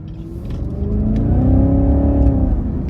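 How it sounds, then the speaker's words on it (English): A supercharged 640 HP V8 Cadillac CTS-V accelerating out of a corner, its deep engine note rising in pitch and swelling louder, heard close up from inside the car with no talking. "we're gonna take it out of this corner here and give it some throttle"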